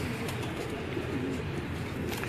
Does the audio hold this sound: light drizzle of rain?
no